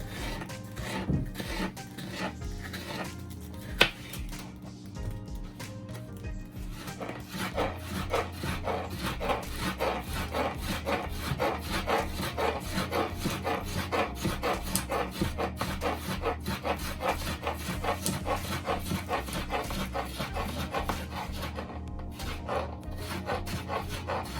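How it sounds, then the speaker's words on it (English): A knife slices sweet pepper on a cutting board in a steady run of close rhythmic cuts and rasping scrapes, continuous and moderately loud throughout with no talk. "for the sweet pepper, I'm going to be slicing it up real small as well"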